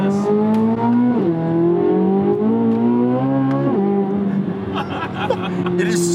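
Corvette C8 Z06 naturally aspirated V8 engine droning steadily from inside the car as it climbs through the revs, with two quick shifts and a brief lift near the end, loud and continuous while people talk over it.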